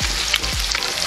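Chicharon bulaklak, deep-fried pork intestine, crackles and pops loudly in hot oil, with sharp bursts scattered over a steady close sizzle.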